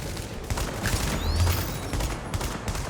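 SASG shotgun fired in the video game The Division, a rapid series of sharp blasts, fairly quiet, mixed with other in-game gunfire.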